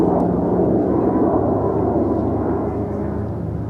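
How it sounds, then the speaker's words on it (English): An RQ-170 Sentinel stealth drone passing overhead makes a steady, loud, unbroken whooshing roar that fades very slightly toward the end, with no voices. "I'm pretty sure this is one of these RQ-170 Sentinel drones"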